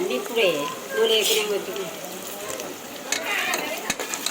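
Goat head curry fries in a pan, a steady crackling sizzle with occasional stirring scrapes, heard close beneath a voice talking throughout.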